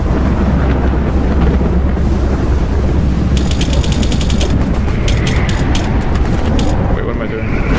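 Gunfire from weapons in the shooter game STALKER Clear Sky with the GAMMA mod: a dense, steady roar of shots, with rapid bursts of sharp cracks in the middle and near the end, loud and close throughout.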